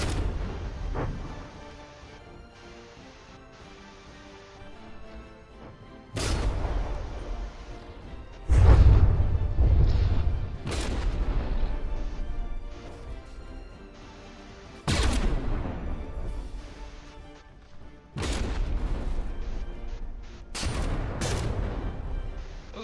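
Warship artillery firing in the naval battle game From the Depths, repeated heavy booming shots in irregular bursts with rumbling decay between them, loud and close, with no voices.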